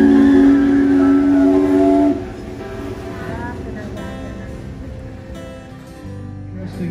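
A lake cruise boat's whistle blows one loud, steady blast for about two seconds, then the rumble of the boat continues under faint talking.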